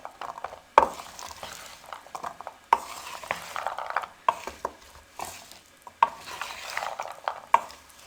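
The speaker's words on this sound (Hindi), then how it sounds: "अब इन तमाम चीज़ों को हम अच्छे से मिक्स करेंगे।" Fried chickpea chaat ingredients are stirred together in a bowl, with soft mixing scrapes, wet shuffling and periodic sharp clinks of the spoon against the side, close and steady without talk.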